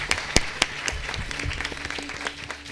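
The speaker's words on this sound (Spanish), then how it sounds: "un aplauso para el colegio." A scattered round of applause at a school science event, with a few sharp, distinct claps standing out, moderately loud and fairly close, with faint background murmur.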